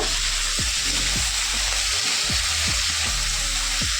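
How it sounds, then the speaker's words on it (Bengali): Cut potatoes and pointed gourd fry in oil in a pan for a khoira fish dish. A steady, close sizzle plays over a low, constant hum, with dull thuds from stirring at irregular intervals. "আলু পটলটাকেও আমি একটু এবার লাল লাল করে ভেজে নেব"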